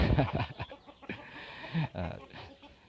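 A young gamecock clucks in short, uneven bursts close by, a few grunting calls spaced across a couple of seconds in a backyard coop.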